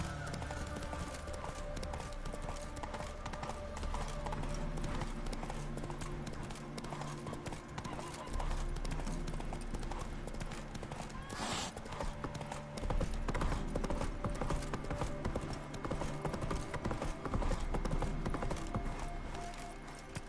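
Roach the horse galloping in The Witcher 3, rapid rhythmic hoofbeats pounding continuously at close range over game music, with a brief snort and someone speaking over it.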